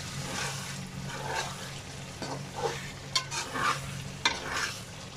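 Afghani chicken karahi with garam masala, coriander and ginger is stirred in a sizzling pan, a continuous close fry with a few sharper scrapes of the spoon, no talk.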